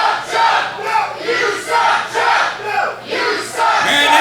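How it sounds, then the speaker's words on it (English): A crowd at a wrestling show shouts and cheers loudly, with surging waves of overlapping voices rising and falling throughout. "Crowd letting them know what they think."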